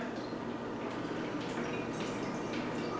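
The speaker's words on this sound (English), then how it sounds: "pour your chicken broth in there" Chicken broth pours into a small saucepan on a stovetop with a quiet, steady liquid splash and trickle, faint and continuous with no talk.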